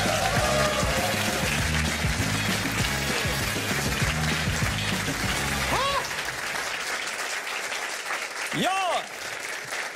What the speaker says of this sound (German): einen aufmunternden Applaus quasi in Orkanstärke